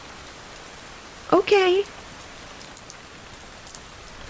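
Soft, steady rain hisses evenly throughout as a backdrop for a book reading stream. A brief spoken word rises above it partway through.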